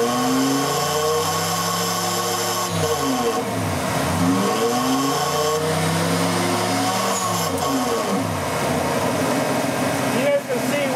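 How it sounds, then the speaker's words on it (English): A car engine idles and then revs repeatedly during an alternator voltage drop test, its pitch rising and falling in about three or four steady swells, loud and close throughout. "Now we're going to also rev it up."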